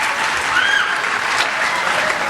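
A school audience at a high school Hispanic Heritage Month celebration claps steadily and densely, sustained applause filling the whole stretch without a break.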